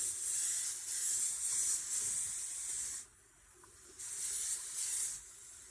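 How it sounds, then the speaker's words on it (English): Two sustained bursts of aerosol adhesion promoter spray hiss from close by onto plastic, each lasting a couple of seconds, separated by a short pause. "So now we're going to spray our adhesion promoter."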